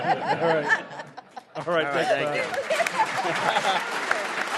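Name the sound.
audience applause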